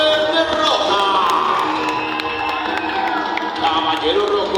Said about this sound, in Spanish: que se escuche fuerte ese aplauso a nuestro primer ganador